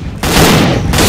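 Loud, close burst of gunfire in STALKER: Call of Pripyat with the Misery mod, a sharp booming volley lasting about a second.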